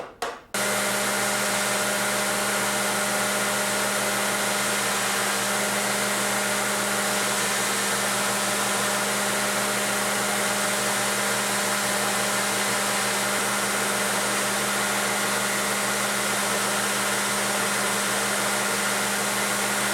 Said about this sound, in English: I trim the edges of the handle scales on the grinder